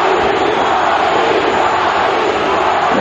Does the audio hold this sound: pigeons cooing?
no